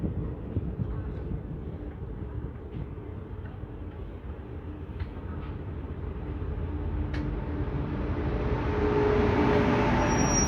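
The Delhi–Jodhpur superfast express rolls into Churu Junction, a steady low rumble of wheels and carriages with occasional faint clicks and a rising hiss toward the end, continuous and fairly loud.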